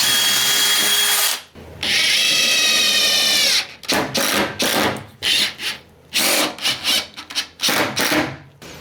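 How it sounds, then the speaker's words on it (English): A power drill pre-drilling a small piece of wood during a downstairs toilet renovation: a long whining run, then several shorter bursts and stop-start pulses of the bit biting into the wood, close and loud, with no talking. "What I like to do if it's a small piece like this, or if you're near the edge anyway, is to pre-drill it just so it don't split."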